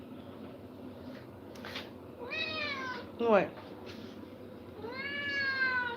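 A pet cat named Rookie meows several times in a kitchen, drawn-out rising and falling calls interspersed with a short sharp cry, close by, with people chatting around it.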